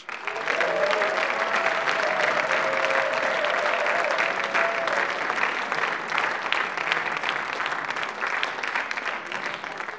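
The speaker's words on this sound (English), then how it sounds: "Give them all a big round of applause." An audience at the Pan Celtic International Song Contest applauds the performers. The clapping is full and steady, with a sustained crowd roar lasting the whole ten seconds and no speech over it.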